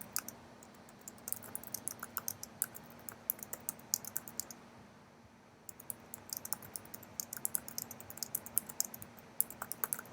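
Computer keyboard typing an email, with rapid, irregular bursts of close key clicks and a brief pause near the middle before the typing resumes.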